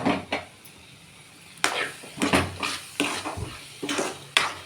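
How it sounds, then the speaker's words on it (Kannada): A spoon scraping and stirring thick puliyogare tamarind gojju cooked with jaggery, oil and salt in a pan. Irregular scrapes and clinks come close and fairly loud, in bursts with short pauses and no talking. "ಒಂದು 2 ನಿಮಿಷ ಈ ಥರ ಕೈ ಆಡಿದರೆ ಇದು ಗೊಜ್ಜು ಮುಗೀತು"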